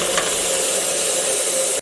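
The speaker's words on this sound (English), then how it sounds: "And then I pour cold water on." Cold water pours steadily onto hot boiled eggs in a pot, a continuous loud hissing rush that stops abruptly at the end, with no talking.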